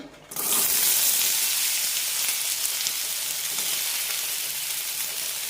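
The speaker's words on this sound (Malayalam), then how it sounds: "ഉരുളക്കിഴങ്ങിൻ്റെ കഷ്ണങ്ങളൊന്ന് ചെറുതായി വറുത്തെടുക്കാം" Small pieces of potato hit hot oil in a pan and break into a strong, even sizzle. The close, crackling hiss carries on without a break for several seconds.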